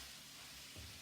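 Food sautéing in a skillet for a keto dish, a steady soft sizzle with a brief low scrape or stir near the end.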